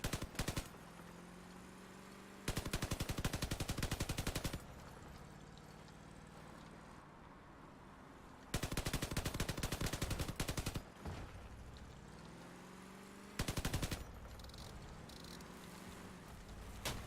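Machine gun fire in the Crossout vehicle combat game, several sustained rapid bursts lasting a couple of seconds each, separated by stretches of engine rumble, loud and close with no talking.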